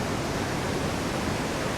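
A flowing river outdoors in nature, a close, loud, steady rushing wash of water with no breaks and no voices.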